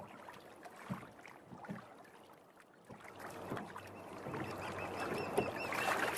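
In an animated Bengali fishing story, a boat moves over a river, with quiet watery splashes and creaks that build slowly from faint to moderate and no talking.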